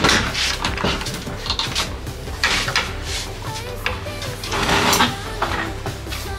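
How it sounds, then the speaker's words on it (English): A repaired door that does not open properly being worked open and closed repeatedly, giving loud scraping, rubbing and knocking bursts that rise and fall close by. "Working the door another four times before that would even go over the lip."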